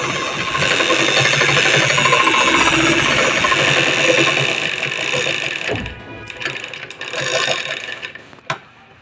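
An electric sewing machine stitching a kurti collar, a loud continuous rapid whirring run of stitches that slows and stops partway, followed by a few short bursts and a click.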